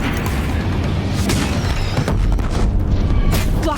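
Deep, booming explosions from Deathbringer machines firing at a bridge in Horizon Zero Dawn, loud and rumbling, with repeated blasts over a dense, chaotic in-game battle din.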